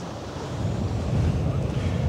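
Strong wind on the deck of the AIDAprima cruise ship sailing out of Hamburg, a loud steady rushing roar buffeting the microphone, with low, surf-like swells of noise throughout.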